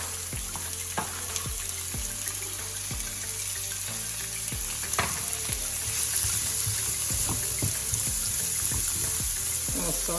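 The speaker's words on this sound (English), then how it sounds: "I'm gonna saute this." Celery sticks sauteing in a pot for homemade chicken noodle soup, a steady close sizzle with scattered clinks and stirring scrapes running throughout, no voices.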